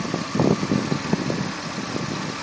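A 2003 Chevy Suburban LT 4x4 with the 5.3-liter V8 idles steadily nearby, a low, even engine rumble with slight uneven pulses and no talking.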